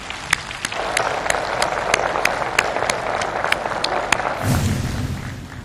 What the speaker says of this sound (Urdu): اگر آپ ان کے لیے زوردار تالیاں نہیں لگائیں گے